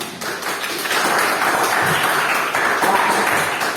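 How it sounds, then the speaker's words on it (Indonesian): Students in a classroom clapping for the day's activity, a dense round of loud applause lasting several seconds. "tepuk tangan untuk kegiatan kita hari ini semua"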